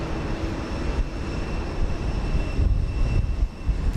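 Airplanes take off at Houston Intercontinental airport, a broad steady engine roar heard from a distance, fairly loud and continuous with no talking.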